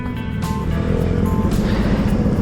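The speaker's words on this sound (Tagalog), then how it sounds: "Grabing traffic." Heavy road traffic heard while riding a Yamaha NMAX V2 scooter: a continuous low engine and road rumble with passing vehicle noise, loud and close, and no speech.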